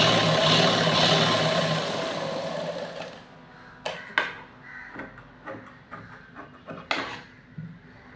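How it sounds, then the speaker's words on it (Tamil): A sewing machine stitches the border of a simple model blouse; a loud continuous whirring run fades after a few seconds into scattered short bursts and clicks of stitching, close by, with no talk. "இந்த இடத்த கொஞ்சம் நம்ம தைச்சிக்கலாம்"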